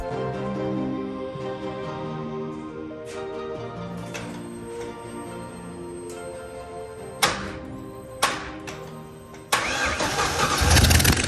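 A Ford Coyote swap engine cranks on ignition. Quiet background gives way to two short starter bursts, then a longer, louder cranking run near the end, close to the engine.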